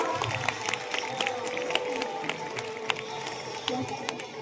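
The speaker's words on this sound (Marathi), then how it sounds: "सर्वांनी एकदा जोरदार टाळ्या वाजवा." An audience claps at a Guru Purnima celebration held at a secondary school, with scattered, uneven claps over a murmuring crowd and a voice in the background.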